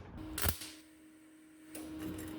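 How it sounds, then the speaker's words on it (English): A sharp mechanical click, then a brief creak as a small latch releases and a panel swings open, close and quiet. "push that and the door will come open"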